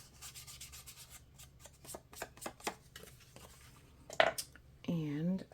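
Ink is rubbed onto the corners of paper tags with soft, rhythmic scuffing and dabbing strokes, close and fairly quiet, with a brief voice near the end.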